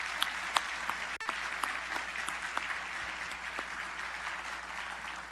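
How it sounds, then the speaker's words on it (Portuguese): An audience gives a round of applause to Professor Montezano at a presentation, steady mid-distance clapping with a few sharper individual claps over the crowd. "Queria pedir uma salva de palmas aqui ao professor Montesano."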